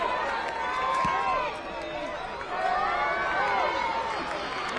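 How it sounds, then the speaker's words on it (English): A stadium crowd roars steadily for the home side, Orange County SC, during a soccer match against El Paso Locomotive FC, with a loud, continuous wash of cheering and rising chant-like tones. "Crowd trying to get behind their home team tonight."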